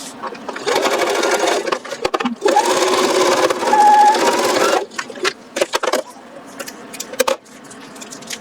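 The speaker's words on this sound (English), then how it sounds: "turn it right side and sew on over, the line I drew, which should be a quarter inch" Sewing machine runs in several loud bursts while stitching a flying geese quilt block, each run a rapid mechanical whir separated by short pauses, with shorter stitch bursts toward the end.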